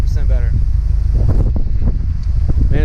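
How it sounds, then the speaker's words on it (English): Strong wind gusting outdoors, buffeting the microphone with heavy low rumble throughout, while someone speaks briefly over it. "Man, it's awfully windy out here."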